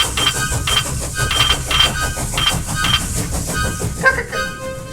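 A steam engine chuffs and clanks rhythmically with hissing steam and short whistle-like tones repeating at regular intervals, ending in a louder clank, close and fairly loud with no talking.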